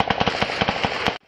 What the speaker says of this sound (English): Video released by LaGrange police shows the barrage of gunfire